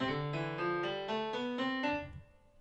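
A piano in Ableton climbs a white-key scale starting on D, the Dorian mode, seven or eight steady evenly paced notes rising in sequence, the last one ringing and fading out, with no voices.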